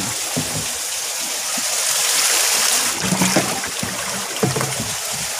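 Water rushes and gurgles steadily as a koi pond filter drains, a continuous hiss with a few soft knocks and splashes nearby.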